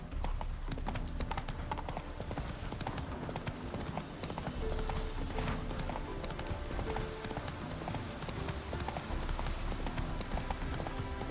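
Roach, Geralt's horse in The Witcher 3 video game, trots with steady clip-clop hoofbeats throughout, loud and close over a dense backdrop of game music and ambience.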